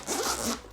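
Zipper on a Renpho Active Thermacool massage gun carrying case being pulled open in one continuous close, rasping run that fades out at the end.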